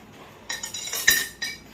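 Dishes clinking and clattering at a kitchen sink while being washed, a quick run of light bright clinks in irregular bursts, close and moderately loud, with no talk.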